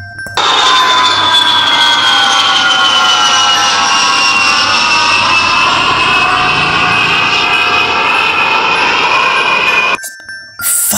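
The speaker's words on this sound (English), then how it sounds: "This is an airplane." Airplane engine roaring loud and steady for about ten seconds, a broad jet-like whine and rumble that holds constant before cutting off abruptly near the end, with no voices over it.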